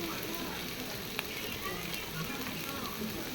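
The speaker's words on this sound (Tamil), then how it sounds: "இப்போது தேவையான அளவு மஞ்சப்பொடி போட்டு அந்த எண்ணெயிலே கொஞ்சம் வதக்கிட்டோம்னா அந்த பச்சை வாசனை போயிடும்." Turmeric powder is sautéed in oil for vegetarian mutton chukka, producing a quiet, even hiss of frying with a single light tap and no clear voice.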